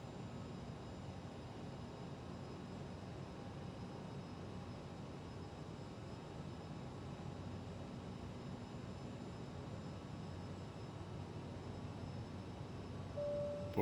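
A CRJ900 regional jet on ILS approach in Microsoft Flight Simulator 2020 gives a steady, even cockpit drone of engine and airflow noise with no talk.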